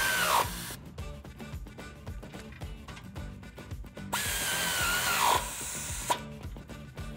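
A power tool spins up in several short bursts as bolts are tightened on a Barricade HD front bumper for a Jeep Wrangler JL, whirring loudly, stopping, then whining again with rattling in between.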